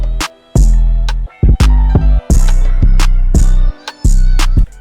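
A programmed FL Studio drum beat with no hi-hats, just heavy kick and deep 808 bass hits with snare or clap accents, loud and punchy in a sparse, repeating pattern with gaps between hits.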